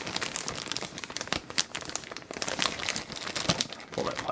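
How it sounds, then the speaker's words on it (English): Plastic packaging on a 1/35 Tamiya model kit is pulled tight and handled, producing continuous close crinkling and crackling with sharp tearing-like bursts throughout. "Pull that plastic tight for you"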